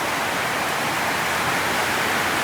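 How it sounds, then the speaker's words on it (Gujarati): Rainwater coming through a tin roof and falling onto wood during heavy rain, a steady dense patter and hiss with no break, fairly close and even in level. "બધી જગ્યાએ લાકડા પર પાણી પડતું રહે."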